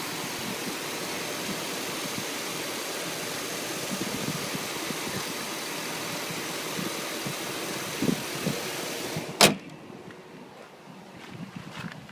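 A 2005 GMC Denali engine idles quietly, a steady low, even hum with some wind noise, broken by one sharp click near the end before the sound drops slightly quieter.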